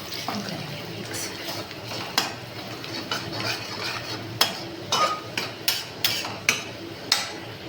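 A spoon stirs and mixes a spicy vegetable dish in a pan, giving soft scraping with a faint sizzle, then a run of sharp, rhythmic clinks against the metal toward the end.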